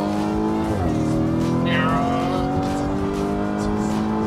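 A sports car accelerating hard in its race drive mode (Corsa), engine note climbing steadily through the gears with a brief tire chirp, loud and close from inside the cabin.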